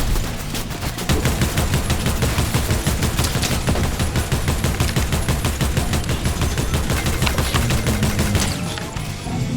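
Rapid, sustained automatic gunfire in a war video game rattles continuously at close range as shots are fired at a car, a dense loud barrage with no pauses and no voices.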